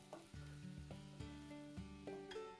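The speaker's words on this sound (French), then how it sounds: "avec 2 cuillères à soupe d'huile et à feu moyen, faire revenir l'ail et l'oignon 20 secondes." Quiet, steady sizzle of garlic and onion frying in oil, a soft crackle running throughout with gentle tonal sounds underneath.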